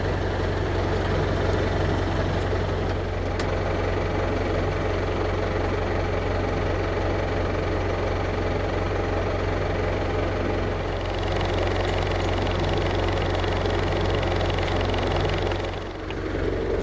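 A tractor engine runs steadily at a low, rumbling idle while a hydraulic cylinder raises a harvest trailer, a constant close drone with faint clicks and knocks and a brief dip near the end, with no talking.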